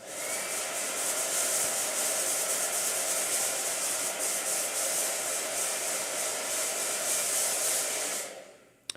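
A blow dryer runs steadily at close range with a bright, hissing airflow whine for about eight seconds, then switches off abruptly near the end.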